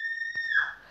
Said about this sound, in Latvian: Ko tu tur bļauji